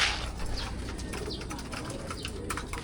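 Pigeons cooing in a trapping setup, soft low repeated coos close by with faint rustling and wing sounds, and no talk.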